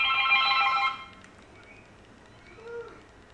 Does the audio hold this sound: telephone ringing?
yes